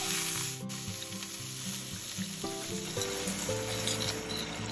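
Cooked pasta being stirred into beef sauce in a pan, a steady gentle sizzle with soft stirring and scraping, close with no talk.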